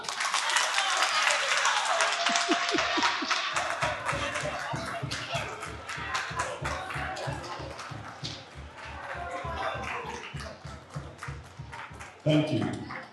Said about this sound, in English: we clap for them for 15 seconds